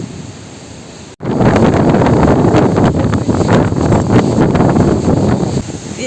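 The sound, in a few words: stormy sea and strong wind at the shore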